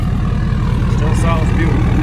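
2017 Ford Powerstroke 4x4 diesel truck engine running: a deep, steady, pulsing idle close by, with a voice speaking over it.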